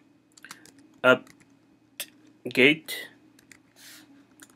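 Sparse, close keystroke clicks on a computer keyboard while a command is entered, with a voice speaking briefly between the taps.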